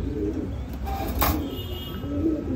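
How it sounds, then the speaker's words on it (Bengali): Fancy pigeons, Red Lahori and Black birds in a breeder's loft, coo in low, soft, continuous throaty murmurs close by, with no voices over them. "খুবই ভালো কবুতর"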